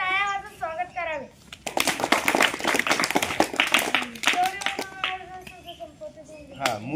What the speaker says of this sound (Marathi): तरी सर्वांचे टाळ्या वाजवून स्वागत करावे